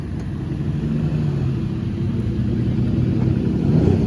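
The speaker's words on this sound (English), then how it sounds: "There goes the CLK GTR 250 Testarossa" Mercedes CLK GTR and Ferrari 250 Testarossa passing at the Polo Fields during Pebble Beach car week, a steady low engine rumble that swells slightly toward the end, with no talk.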